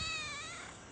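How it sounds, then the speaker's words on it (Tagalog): A three-year-old male cat gives a single drawn-out meow, close and clear, with a tone that slides slightly downward and fades near the end. "Ayan yung pusa ko, oh."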